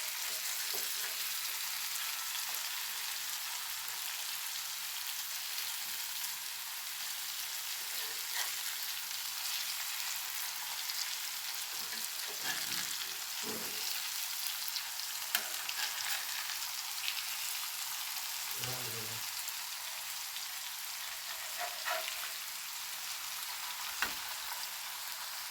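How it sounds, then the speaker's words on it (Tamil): Koduva fish fries in a pan over a low flame, giving a steady, even sizzle that runs unbroken for the whole stretch, with a few soft clinks and stirring sounds and no talking. "சிம்மில் வச்சு வறுத்தோன்னா தான் நல்லா வேகும்,"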